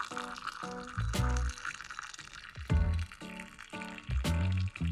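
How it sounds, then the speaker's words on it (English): Boiling water pours into a mug in several bursts, with gurgling and splashing between short pauses, close and fairly quiet. "Bringing some water to a boil, I pour it in and enjoy the ASMR"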